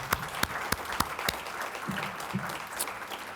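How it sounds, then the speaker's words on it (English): Audience at a technology symposium applauding, a brief burst of many hands clapping with a few sharp individual claps, fairly close and fading after a few seconds. "let's give them a round of applause as well"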